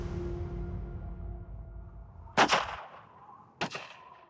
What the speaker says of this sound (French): Il tire 2 coups de fusil